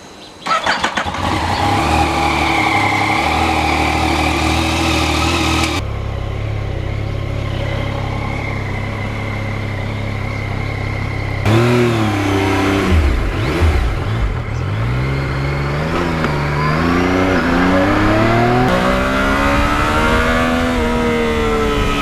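A 2020 Yamaha MT-09 motorcycle engine runs loud and close while riding, its pitch climbing and falling through repeated revs and gear changes.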